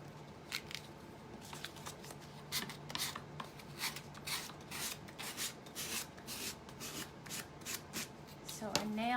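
Sandpaper rubs in quick, repeated strokes along the decoupage paper edges of a paper pumpkin, a dry close scratching rhythm that runs nearly continuously.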